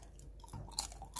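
Close, crisp chewing of crunchy dried pollock skin gangjeong, a few quick crunches in a short burst with no talking.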